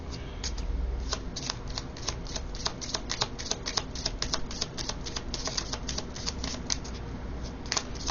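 Tarot cards shuffled for a reading, a rapid, steady patter of riffling card edges that runs continuously at close range and fairly softly.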